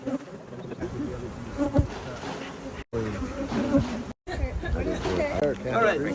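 Honey bees buzzing as they are shaken and tapped down gently during a package-bee demonstration at a South Florida honey bee expo, a dense insect drone under continuous speech, with two brief dropouts.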